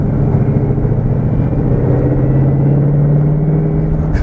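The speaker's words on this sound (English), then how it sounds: "Let's leave it in a high gear and see what it sounds like when I put my foot down." A 2016 Ford Mustang GT V8 pulls hard up a steep incline in a high gear, a loud, steady low engine drone with a slowly rising pitch held for several seconds, close and continuous.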